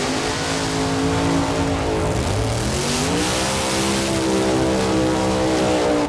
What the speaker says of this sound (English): It's a very good race car, that Mark White team machine, as they get set to go for Eric Sindrich, Ken Sheets.